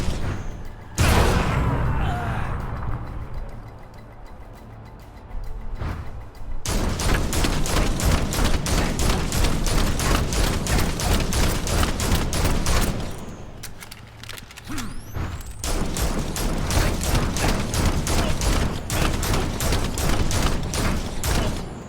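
Sustained automatic gunfire from Red Hood in Gotham Knights comes in long rapid volleys with short pauses between them, loud and close against booming game effects, with no talk.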